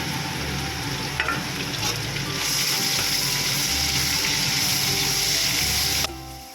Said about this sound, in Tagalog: habang ginigisa natin ang ating pork